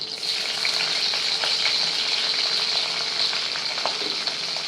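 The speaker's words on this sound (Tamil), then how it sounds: "நல்லா ஃப்ரை பண்ணிக்கலாம்." Steady, dense sizzling of spices, including dried red chillies and a green chilli, frying in a hot pan, crackling continuously at a close, even level with a few sharper pops.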